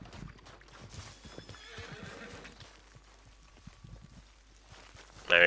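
Horse in Red Dead Online whinnying in a rising neigh, followed by a run of clip-clopping hoof steps at a walking pace, then a sudden loud burst near the end.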